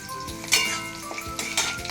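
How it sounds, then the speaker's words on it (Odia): Chopped onions hit a hot pan while cooking an Odia-style vegetable mixture, giving a brief sizzle mixed with close clatter of utensils against cookware. "ଏବେ ଆମେ ଦେଇଦେବା ପିଆଜ କଟା ପିଆଜ"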